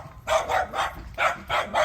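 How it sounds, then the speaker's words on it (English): Dogs barking in bursts, five sharp barks in an uneven rhythm, loud and nearby, with no talking over them. "Here's our lovely barking dogs here."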